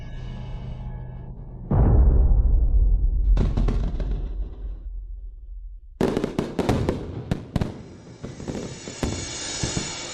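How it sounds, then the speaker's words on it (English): Fireworks burst in a loud series: a heavy low boom, then a second blast, then a dense run of sharp crackling pops filling the rest, continuous and close. "What beautiful fireworks."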